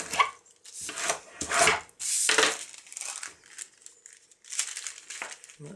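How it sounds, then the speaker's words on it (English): Scissors cut the ends off a paper bag in several crisp, papery snips and crinkles, close by and spaced out with short pauses, with no talking. "The other one is a paper bag. I'll just cut the ends off it."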